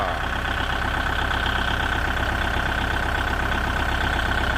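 A Kubota diesel engine on a dump truck idles nearby, a loud, steady, even rumble with a constant rhythmic chug that continues unbroken throughout.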